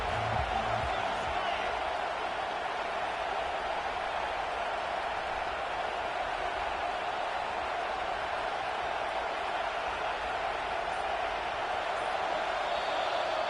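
A dense, steady roar from a stadium crowd cheering at a Syracuse college football game, loud and continuous with no breaks, under an announcer's voice.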